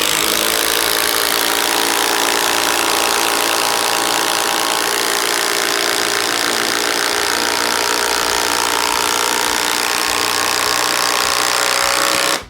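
A Bosch Freak impact driver sinks an 8-inch TimberLok screw with a loud, steady, continuous motor whine and rapid hammering that holds for the whole stretch, close by and with no talk.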